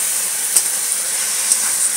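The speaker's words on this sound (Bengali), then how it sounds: "মশলার সাথে কাঁকড়াকে ভালো করে কষে নেবো।" Crab pieces cooking with spice masala and a little water in a pan, a steady bright sizzling hiss with a couple of faint pops, close and without speech.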